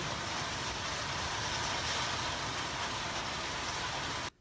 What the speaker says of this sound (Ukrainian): під'їхала мийка панелей